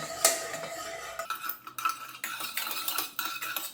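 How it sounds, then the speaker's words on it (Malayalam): A spoon stirs and mashes cooked toor dal in a pot after pressure cooking for drumstick leaf rasam, giving soft scraping and clinking metal taps in a steady irregular rhythm, close and fairly quiet, with no voices. "നന്നായിട്ടൊന്ന് സ്പൂൺ വെച്ചിട്ട് ഉടച്ചെടുക്കാം"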